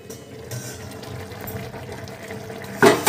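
Water poured into a pot while making Maggi noodles, a soft continuous splashing trickle that ends in a brief louder gush near the finish.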